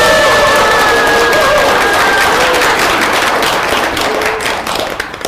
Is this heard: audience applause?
yes